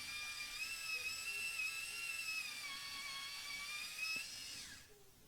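An electric pencil sharpener grinds a Pompeian red colored pencil with a steady high whine for several seconds, then winds down abruptly near the end.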